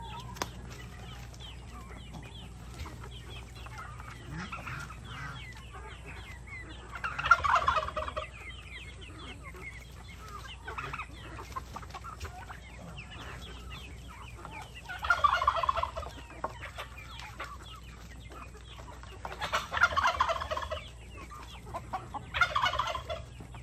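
Bursts of loud honking calls from nearby geese, a pair of them, come in several clusters over steady background noise, with quieter chatter in between.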